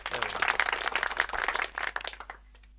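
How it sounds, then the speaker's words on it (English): A short burst of dense clapping applause, fairly close and lively, tapers off after about two seconds into near silence. "In fact, I'm even going to give myself an applause."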